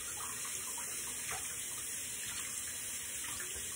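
A tap runs steadily as lather is rinsed out of a shaving brush under the stream, a constant close splashing rush of water with no voices.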